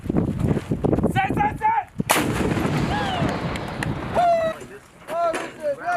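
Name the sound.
artillery direct fire at an impact area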